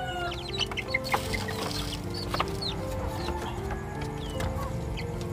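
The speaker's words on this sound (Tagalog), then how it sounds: "Ang sisiw. Makukulit." Chickens clucking with chicks peeping at a home yard, a continuous busy chorus of close clucks and high cheeps layered over a constant low background hum, without talk.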